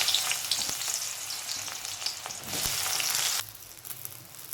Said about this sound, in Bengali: এর মধ্যে প্রথমেই আমি বেগুনটা ভেজে নেব